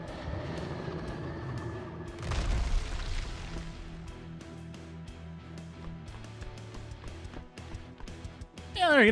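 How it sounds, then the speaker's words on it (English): A booming explosion bursts around the two-second mark over a busy background of music and game-like sounds, followed by scattered crackles and pops. "Is it a good explosion?"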